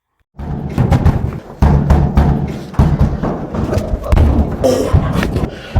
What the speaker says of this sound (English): they're kicking and banging at her door